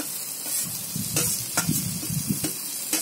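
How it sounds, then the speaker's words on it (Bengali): Ginger, garlic and green chilli paste sizzles in hot oil with spices while being stirred for chicken keema curry, a steady frying hiss broken by repeated scraping strokes of the spatula against the pan. "ভালো করে কষিয়ে নিচ্ছি আদা রসুনটাকেও"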